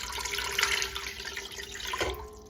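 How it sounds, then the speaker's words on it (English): Water poured into a pot for making rose hip tea, a soft, steady splashing trickle that is faint and close, with a small clink near the end. "I've just popped in half a litre of water."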